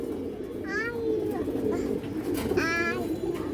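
Ring-eyed pigeons of a fine old breed coo continuously in a low rumble nearby, with a couple of brief higher calls or squeaks rising above the steady cooing.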